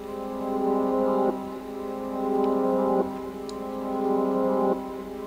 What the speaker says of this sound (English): it's literally just like a reversed piano kind of sound.